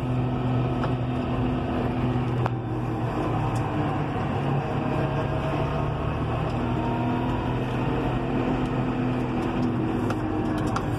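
A John Deere 6150R tractor engine droning steadily while driving, a constant low rumble with a faint hum inside the cab, no talking.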